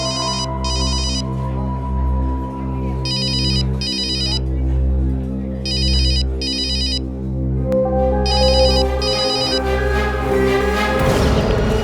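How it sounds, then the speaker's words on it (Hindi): A phone rings in repeated paired electronic bursts over a low droning musical background, ringing again and again without being picked up. "फोन करने पर फोन नहीं उठा रहा है"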